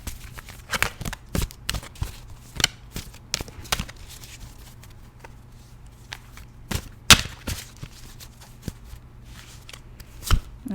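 Tarot cards from a Marseille deck being handled and drawn, giving a run of soft, irregular shuffling and tapping clicks at close range with no talking.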